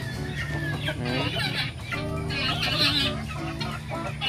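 Chickens cluck and squawk continuously after being let out of their coop, several birds close together with overlapping calls and a brief crow-like cry among them.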